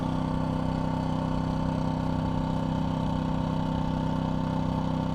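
A DuroMax XP2000is inverter generator runs at half load, heard from the exhaust side as a steady, close, unchanging engine drone with no voices.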